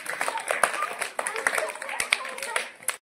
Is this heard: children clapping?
yes